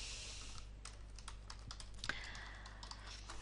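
Quick, uneven keystrokes tapped out on a computer keyboard while typing a message, close and fairly faint over a steady low background hum, with no voice.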